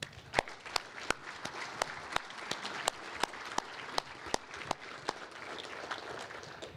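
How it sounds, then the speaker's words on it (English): Audience applause at a city State of the City address in Lethbridge, a steady wash of clapping with sharp individual claps standing out, moderately distant and continuous throughout, with no talk over it. "Please give them a round of applause."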